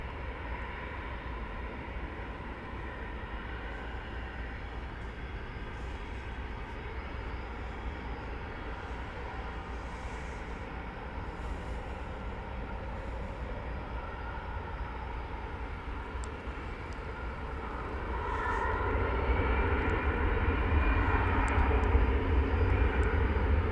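Steady jet engine roar from an airliner at DFW Airport at night, a continuous broad rumble that swells louder toward the end as the plane draws nearer, with no voices.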